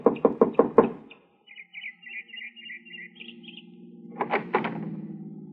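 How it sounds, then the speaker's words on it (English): A radio drama sound effect of knocking on a small house's front door, four sharp raps, then a quiet pause with faint tonal sounds, then two more knocks heard against a low hum. "knocked at the door of her small house"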